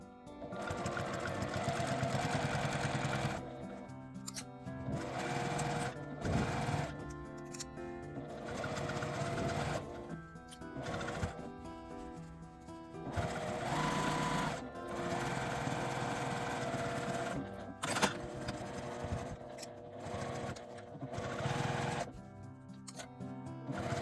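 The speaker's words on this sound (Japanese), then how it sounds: "少しだけ手前に引きながら縫っていきます" A sewing machine stitches a quilted nubi-fabric tote bag with pockets, close and buzzing in bursts of steady needle chatter separated by short pauses as the fabric is guided along.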